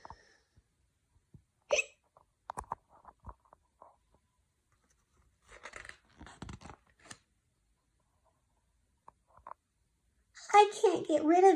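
A voice imitates a penguin's hiccups after eating chili, giving a few short sharp hiccup-like bursts scattered through quiet stretches, then speech-like vocalizing at the end.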